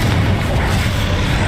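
The Confringo fire spell bursts in Hogwarts Legacy as a loud, continuous roaring blast, with dense rumbling boom filling the whole moment and no quiet gaps.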